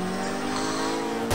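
Opponent race car in Forza Horizon 2, a steady loud engine drone with tonal whine and tire noise holding throughout, then a sharp louder burst at the very end; no speech.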